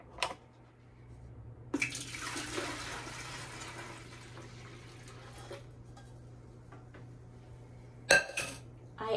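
Cooled tea is poured into a container over a kitchen counter: a soft, steady splashing stream runs for a few seconds between sharp clinks of dishes and utensils, all quiet and close.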